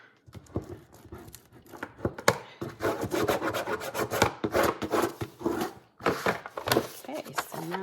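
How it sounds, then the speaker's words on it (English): Burnishing a junk journal cover by hand produces quick, close, rhythmic rubbing and scraping strokes that come in dense bursts with brief gaps. "now we're going to burnish this"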